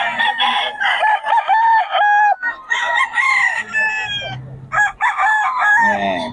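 At a Bocaue market, roosters from Pangasinan crow loudly in overlapping, repeated calls close by, with chickens clucking in the short gaps between.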